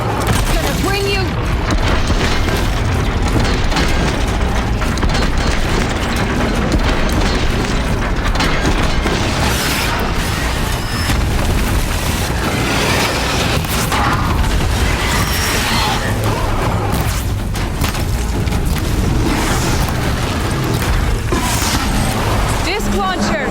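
Heavy booms and explosive crashes from a Thunderjaw machine battle in Horizon Zero Dawn, dense and continuous, with rumbling low-end impacts layered over steady combat noise and voices shouting throughout.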